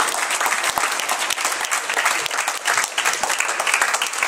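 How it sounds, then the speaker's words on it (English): A crowd applauds a squash player at the 2013 US Open, steady dense clapping that stays loud and even for several seconds, with no voices standing out. "let's have a big round of applause for Sabrina Sobhy"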